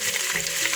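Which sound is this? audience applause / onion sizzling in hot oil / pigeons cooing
onion sizzling in hot oil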